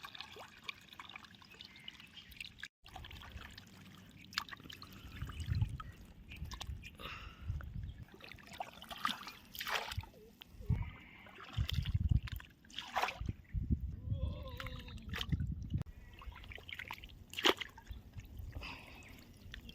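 Water is scooped and tossed again and again as a pond is bailed out for fishing, irregular splashes and pours close by, with dripping between the throws and no talking.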